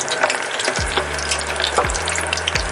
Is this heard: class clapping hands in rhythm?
no